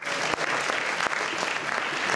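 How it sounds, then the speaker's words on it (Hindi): Audience applause at a Pakistani community achievements awards ceremony in Hounslow, welcoming an award recipient to the stage; dense, steady clapping fills the room throughout. "आपकी भरपूर तालियों में ख़वातीन हज़रात तशरीफ लाते हैं मिस्टर आबद राजा."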